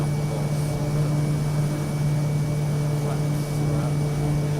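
An airplane engine in a flight simulator drones as a loud, steady, continuous hum with a strong low tone, unbroken throughout.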